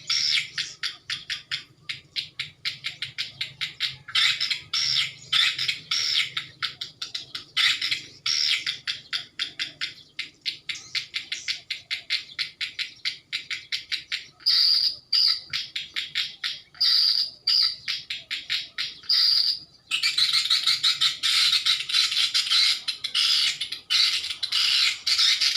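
White swiftlets flock into an unfinished building in Aceh Jaya that has no roof yet, filling the space with dense, continuous high twittering and chirping from many birds close by, with no voices.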